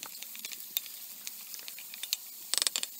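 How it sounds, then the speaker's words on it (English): Onions and garlic sizzle in olive oil in a pan, a steady soft frying hiss with scattered crackles and a brief burst of louder spattering near the end, no voices. "Start with cooking the onions and garlic for around 5 minutes."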